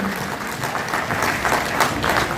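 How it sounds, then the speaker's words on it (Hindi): Audience at a Hindi kavi sammelan poetry gathering applauds to welcome a poet onstage, a close, continuous wash of clapping hands lasting a couple of seconds. "आपने मेरे स्वागत सम्मान में जो घनघोर तालियां बजाई हैं"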